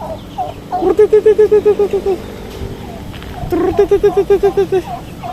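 Fowl sound off at feeding time on a backyard farm with breeder roosters: rhythmic, close gobbling or clucking calls in two repeated runs of about ten pulses each, with a few scattered calls between.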